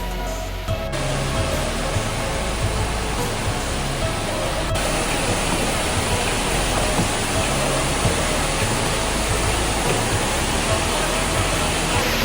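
A large waterfall near Luang Prabang, Laos, in the dry season gives a loud, dense, unbroken roar of rushing water that fills the whole stretch without pause.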